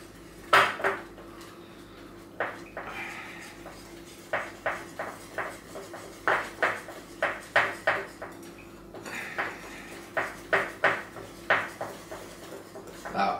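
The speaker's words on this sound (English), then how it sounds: "Just continue to mix until you get very very smooth" A utensil works peanut butter cupcake batter in a bowl, knocking and scraping against the sides in a rhythmic series of sharp clinks, some quicker and some spaced out, over about thirteen seconds.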